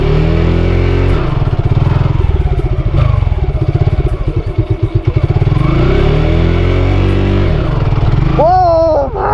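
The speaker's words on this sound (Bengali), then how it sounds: "কুইক থ্রোটলটাকে এগিয়ে দেবো" Motorcycle on a village road, its throttle revved hard with a loud, close, pulsing engine roar that swells and dips, then a voice speaks briefly near the end.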